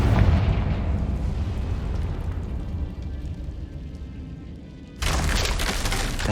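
Confringo spell explosion in the Hogwarts Legacy video game: a heavy rumbling blast that decays over several seconds, followed by an abrupt loud crackling burst of debris.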